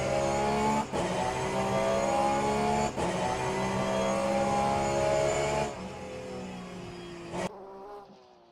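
Race cars in a video game weave through a twisty section of a track in a Korea round, their engines holding a steady buzzing whine with brief dips as they take the turns, and no talk.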